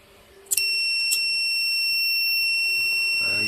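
An Arduino fire alarm buzzer switches on after a couple of clicks and rings as a steady, piercing high tone that continues unbroken to the end, close and fairly loud.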